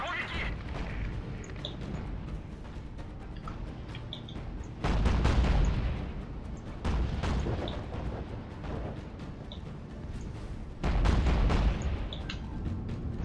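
Naval guns firing at a cruiser in Battlestations: Pacific during the Battle of Cape Esperance, heavy booming salvos arriving in three thick bursts over a constant rumbling sea-battle din, with a voice talking faintly underneath.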